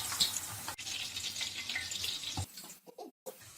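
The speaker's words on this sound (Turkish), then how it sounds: "Bu şekilde bütün patlıcanlarımı kızartıyorum." Steady crackling sizzle of eggplant frying in hot oil, close by, with a sharp clatter and a brief quieter break near the end.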